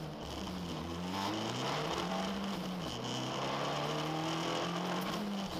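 Onboard an Abarth race car at a race start at the Zolder circuit: a loud, continuous engine roar with rising and falling pitch through gear changes, constant throughout with no talk.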